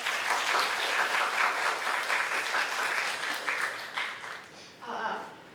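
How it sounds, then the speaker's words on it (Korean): Sustained applause from a university mentoring-event audience, a dense even patter of many hands that fades toward the end, with a voice starting to talk over the last moment. "큰 박수 부탁드립니다"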